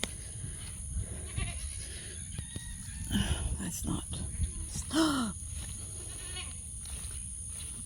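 Goats bleat loudly close by on a farm, several wavering cries mixed with a rooster or chickens in the background, while a person shouts briefly over them.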